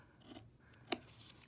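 A single quick scissor snip trimming marine vinyl near the tack line of an in-the-hoop ID badge blank, faint and close, with a soft rustle just before it.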